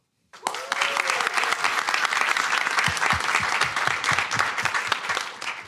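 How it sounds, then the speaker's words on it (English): A crowd at the MIT entrepreneurship pitch competition bursts into sustained applause for a second-place winner, dense and loud clapping after a brief silence, with a few whoops rising through it. "Please give a big round of applause to Pathflow."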